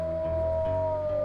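A single sustained wolf howl in the video game WolfQuest, a steady, fairly clear tone holding across the whole short moment over a low ambient rumble.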